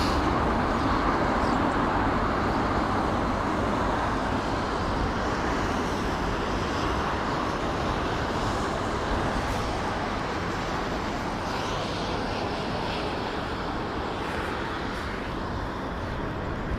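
Airliner landing at Heathrow Airport in stormy conditions, a broad, steady roar of engines and wind that holds throughout, distant and rumbling with no clear voices.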